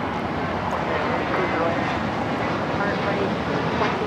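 An American Airlines A321 jet takes off from runway 25 right at LAX bound for JFK, producing a loud, constant, broadband engine roar throughout, with some talking underneath.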